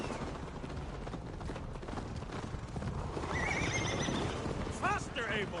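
Horses in Assassin's Creed Valhalla gallop with rapid clip-clopping hooves under murmuring voices, then a loud whinny rises near the end over the running, with faint distant gunfire-like pops.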